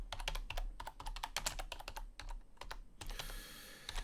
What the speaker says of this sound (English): my typing's terrible too